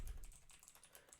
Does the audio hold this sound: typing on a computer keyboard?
yes